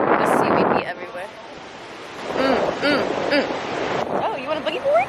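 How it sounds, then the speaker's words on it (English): Wind at the beach gusts across the microphone in low, heavy rumbles with surf-like noise, loud and close, while voices talk over it. "It is so windy."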